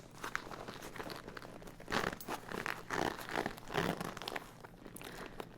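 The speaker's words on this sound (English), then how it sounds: "although these zips are pretty cool" Close crinkly rustling and small metallic clicks come from the circle-pull zips and fabric of a vintage jacket, arriving in irregular handled bursts with no speech.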